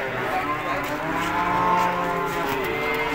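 A cow at the Ambar Ketawang cattle market in Yogyakarta lets out a single long, loud, nearby moo over a constant murmur of market background noise.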